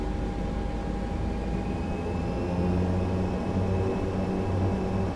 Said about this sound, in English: Let's go ahead and throttle up.